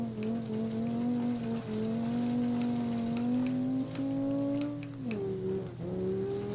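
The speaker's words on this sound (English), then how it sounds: "This is making I5 noises." Inline five-cylinder engine of a car in the BeamNG.Drive racing game on a gravel hillclimb, a steady droning hum that holds and slowly rises in pitch, then dips sharply near the end as the revs drop.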